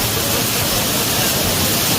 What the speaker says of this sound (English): be in a whole wide paradise of nature here at the Facundo Waterfall